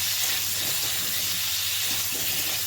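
Potatoes frying in a hot pan with salt and turmeric, a steady, loud sizzling hiss that holds even and unbroken throughout.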